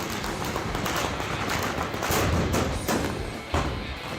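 Rapid volleys of gunfire and bursting firecrackers fill a Holi procession, a loud, nonstop barrage of cracks and thumps with a few heavier booms standing out near the end.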